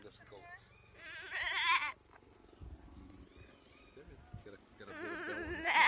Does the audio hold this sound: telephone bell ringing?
no